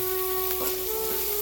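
Pirandai, or adamant creeper, sautés in a pan for thuvaiyal, giving a soft, continuous sizzle with a faint steady hum underneath and a light stir partway through.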